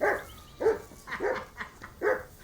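A dog barks in short, repeated bursts, four main woofs about half a second apart with a faint whine between, fairly close, in the medieval role-playing game Kingdom Come: Deliverance 2.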